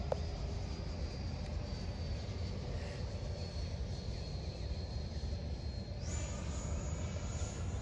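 A high-pitched jet whine from a radio-controlled 80mm ducted-fan F9F-8 Cougar model jet drones steadily at a distance over a broad rumble, rising in pitch near the end as the engine speeds up.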